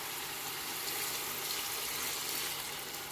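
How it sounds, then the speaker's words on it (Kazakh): Water pours into a cooking pot holding meat, making a soft, steady rushing stream heard up close at low volume. "Ет батып тұратындай су құямыз."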